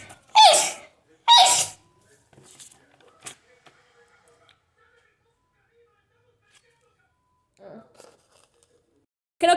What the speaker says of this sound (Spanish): creo que me grabé estornudando